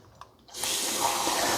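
Tap water suddenly gushes into a kitchen sink or measuring cup after a faint click, then pours steadily and fairly loudly while water is being measured out for a bacon and egg pancake casserole.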